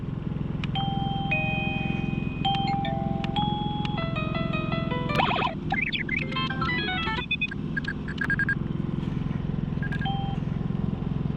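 A series of electronic chime melodies from a driveway alarm receiver plays one after another, bright synthetic tones cycling through different ring patterns over a steady low hum.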